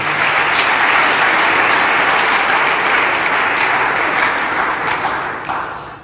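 Church congregation clapping in sustained, dense applause that fills the room at steady loudness before tapering off at the end.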